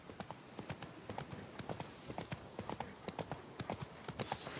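A horse's hooves clip-clop steadily at a walking pace in The Witcher 3, a soft, even rhythm of hoofbeats heard alone.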